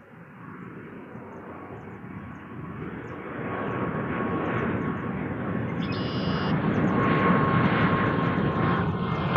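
An Air Canada airliner roars in to land at Toronto Pearson on runway 24 left, a broad, steady engine rumble swelling louder as it approaches.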